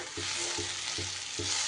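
Spicy onion paratha stuffing frying in a pan while being stirred: four regular scraping strokes of the spoon over a steady, close sizzle.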